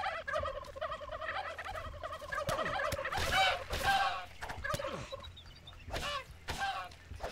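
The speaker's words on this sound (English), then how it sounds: "all of a sudden I hear a bunch of turkeys" Several wild turkeys gobble over and over in loud, rattling bursts that overlap, filling the air with a noisy chorus.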